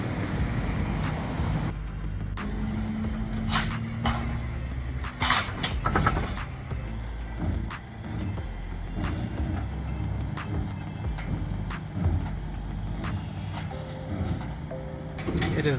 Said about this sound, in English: We are in the process of loading the car.